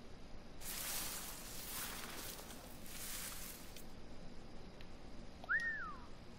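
A single rising-falling whistle from a character in Assassin's Creed IV Black Flag rings out briefly near the end, over steady game ambience with a broad hiss in the first half.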